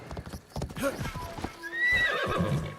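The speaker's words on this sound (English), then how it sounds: "let's call my horse and get out of here." Hooves clop rhythmically at close range in the video game Assassin's Creed Shadows, followed by a horse neighing, with a voice briefly audible.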